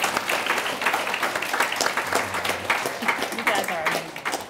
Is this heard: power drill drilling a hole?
no